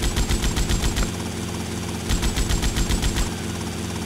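A helicopter in Grand Theft Auto Vice City gives a fast, pulsing rotor chop that comes in two bursts over a steady engine drone, loud and close, with no talk.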